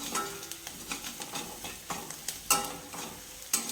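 Onion frying in a pan while a spoon stirs it, giving a crackling sizzle broken by repeated scraping strokes and a couple of sharp metallic clinks, close and fairly quiet, with no talking.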